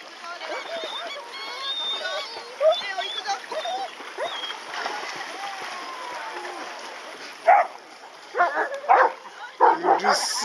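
At a seaside beach a dog barks in a few sharp bursts toward the end, over a background of voices, waves and other dogs barking in the distance.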